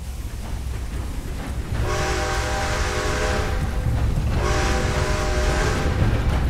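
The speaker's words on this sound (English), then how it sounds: "Time to start this train again." Steam train in Red Dead Redemption 2 starting up and rolling along the rails, a steady loud rumble of engine and wheels with two long sustained whistle or horn blasts over it.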